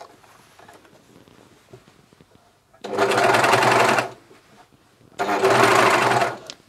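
A Juki MCS1500 coverstitch machine runs a seam on a vest neckband, in two loud, steady bursts of about a second each separated by a pause, close up, with quiet handling sounds between them.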